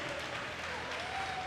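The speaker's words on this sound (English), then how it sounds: "So give her a round of applause as she comes in" Brief burst of steady applause from spectators at a para-swimming meet's pool as a swimmer finishes, even and sustained, with crowd murmur underneath.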